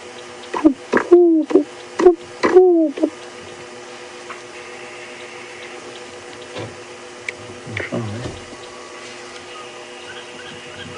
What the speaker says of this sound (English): I can hear a ringneck dove calling in the distance.